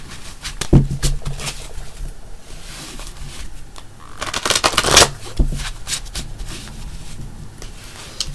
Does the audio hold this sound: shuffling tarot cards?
yes